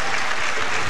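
Warm, dense applause from a crowd at a bowling tournament, the 1999 Bowling's US Open, a full burst of clapping sustained evenly through the moment.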